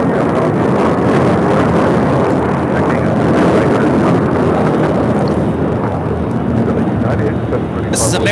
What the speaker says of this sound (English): 1672 taking off to Dallas Fort Worth on an A321